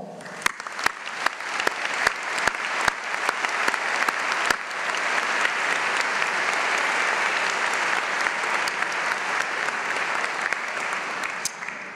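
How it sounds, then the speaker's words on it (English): An audience at a white coat ceremony applauds for a sustained stretch, dense clapping swelling and holding steady with a few sharper individual claps standing out, no talk over it. "So a round of applause to all."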